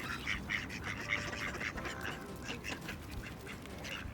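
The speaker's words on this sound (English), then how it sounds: "There's so many ducks." Ducks quack repeatedly while being fed outdoors, a busy run of nasal calls layered over a steady, noisy background.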